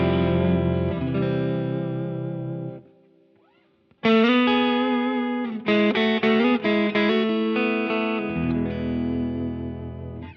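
Electric guitar played through an Anasounds analog reverb pedal loaded with its largest spring tank, sustained chords and picked notes ringing with deep, lush reverb tails, then a brief near-silent gap before bright, choppy strummed chords resume loud and alone.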